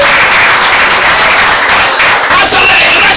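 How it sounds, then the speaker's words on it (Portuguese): A church congregation at an evangelical youth crusade claps for Jesus in a loud, dense, continuous burst of applause that fills the room, with voices mixed in beneath the clapping. "Pode dar uma salva de palmas para Jesus,"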